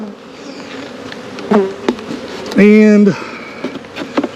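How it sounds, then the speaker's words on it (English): Honey bees buzzing loudly around an open hive close to the microphone, with one brief buzz and then a stronger half-second drone as a bee passes near, over a steady hum of many bees. "Tons of bees still."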